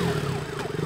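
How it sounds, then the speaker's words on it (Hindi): An ambulance siren in a city setting wails in repeated sweeping rises and falls over steady traffic noise, loud and close for a brief moment with no voices. "अभी अभी एक एम्बुलेंस ने सिटीपुरम जंक्शन क्रॉस किया है"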